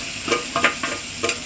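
Dried fish stirred in a hot pan with ginger, garlic, onion and green chili, giving short bursts of sizzling and scraping in uneven strokes, close and fairly loud.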